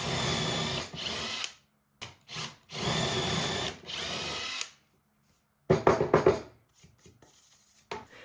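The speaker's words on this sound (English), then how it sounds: "then drilling new holes that will accommodate the original screws." A power drill bores holes through old ceiling fan blades, several separate bursts of whirring drilling with short pauses between, then quieter handling and rubbing noises at the end.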